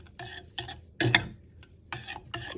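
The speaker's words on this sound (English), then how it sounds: "Mix it nicely." Vermicelli milk pudding with sugar and ground cardamom being stirred in a pot, heard as separate bursts of scraping and clinking at an irregular rhythm, close and fairly quiet, with no voices.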